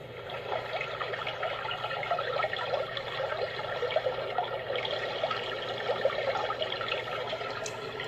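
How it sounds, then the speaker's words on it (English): A white noise sleep machine plays its brook setting: a steady, continuous trickle of running water with a bright babbling texture, even and unbroken throughout, no voices. "Have the brook sound."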